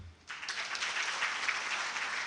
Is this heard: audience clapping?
yes